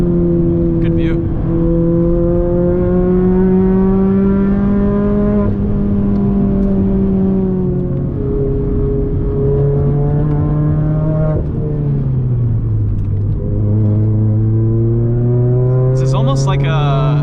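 A car engine drones steadily on a tight, winding mountain touge road at sunset, its pitch rising and falling with gear changes and corners, loud and continuous, with a driver talking over it.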